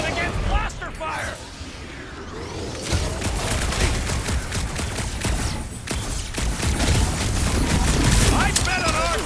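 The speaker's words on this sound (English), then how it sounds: "Kinda nervous shooting around a ship's reactor! It's mostly shielded against blaster fire!" Rapid blaster fire rattles through a space battle in Marvel's Guardians of the Galaxy game near a ship's reactor, dense overlapping bursts mixed with booms and impacts, loud and continuous, with voices over the din.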